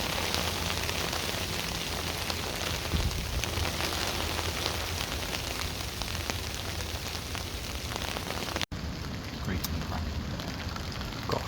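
Heavy rain mixed with hail pounds steadily during a storm at a hammock campsite, a dense, continuous close patter and drumming with a brief cut near the end.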